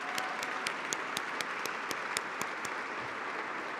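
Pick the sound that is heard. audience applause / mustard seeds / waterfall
audience applause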